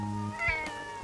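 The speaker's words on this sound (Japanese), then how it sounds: "猫なんだこいつ、捨て猫か" A stray cat in a drama CD scene gives a single clear meow, close and fairly loud, with a low steady hum underneath.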